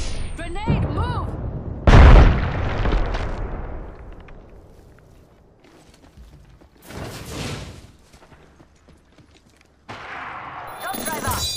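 Game gunfire in a shooter, with a loud burst near the start and scattered shots and booms later, mixed with game voice callouts.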